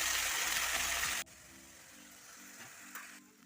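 Lemon and garlic fry in oil for a Kerala-style lemon pickle. A loud sizzle lasts about a second, then drops abruptly to a softer, steady crackle with a few small pops.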